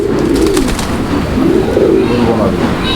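Fancy pigeons at a farm coo loudly and continuously up close, with repeated low rolling calls layered together.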